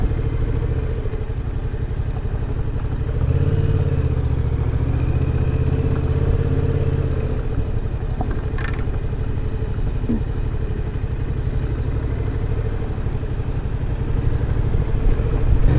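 A Yamaha XSR 700 motorcycle rumbles steadily over a rough, bumpy road, its engine drone loud and continuous with occasional clatter from the bumps.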